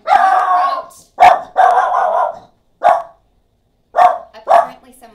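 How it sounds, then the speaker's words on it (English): Dogs bark at someone at the door in a burst of loud, close barks, several quick yaps in a row, then a pause and two more sharp barks. "The dogs went crazy."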